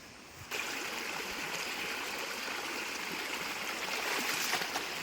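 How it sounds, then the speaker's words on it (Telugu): Rainwater rushes across a farm field after heavy overnight rain. The steady, close, loud, stream-like flow starts abruptly after half a second and continues with no talk. "వాటర్ మొత్తం పూర ఘోరంగా పోతున్నాయి"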